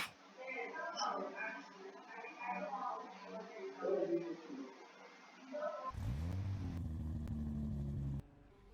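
A car in the Vehicle Legends video game revs on a test drive: someone talks first, then a steady, loud engine drone rises and holds for about two seconds before cutting off.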